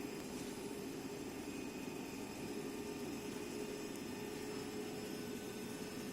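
A DC shunt motor runs at steady speed, giving a constant whirring hum with a faint high whine, unchanging throughout.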